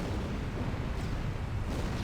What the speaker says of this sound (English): We made it past the script explosion!